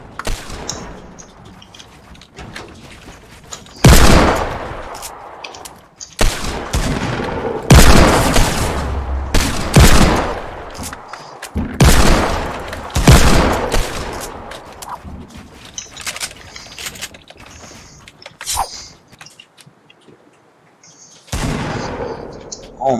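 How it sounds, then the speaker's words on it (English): Gunfire in the video game Fortnite: repeated loud bursts of shots and booming impacts in irregular clusters, some rapid, with brief quieter gaps between volleys and occasional voice. "Shots."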